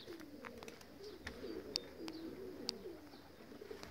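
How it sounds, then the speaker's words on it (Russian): Low, throaty pigeon coos roll on steadily in a soft chain, with brief higher chirps and clicks from other birds scattered over them. "И там голуби понапыжились."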